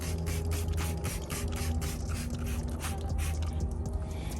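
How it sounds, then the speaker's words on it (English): Spray product hisses onto a car panel in quick, uneven bursts, a close, moderately quiet spritzing mixed with light mechanical clicks throughout. "now I'm going to spray this onto this panel here"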